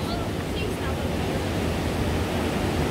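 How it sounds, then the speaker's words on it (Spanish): Steady broadband wash of surf at Playa El Palmar, El Salvador, waves rolling continuously with wind noise, fairly loud and unbroken for a few seconds. "Y esta es playa El Palmar."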